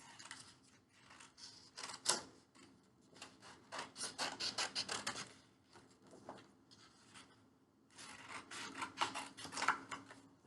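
Scissors snip and rasp steadily around the edge of a paper card for a Montessori three-part card, in repeated close cutting strokes with brief pauses, no talking.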